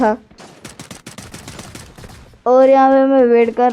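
Rapid gunfire from a shooting video game on a training ground, a fast burst of sharp close shots followed by a loud sustained tonal game sound, with no talk.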